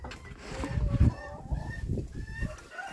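Hens clucking close by as they climb in to lay, soft irregular clucks and a few louder squawks over quiet background rustling.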